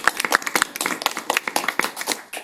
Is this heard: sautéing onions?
no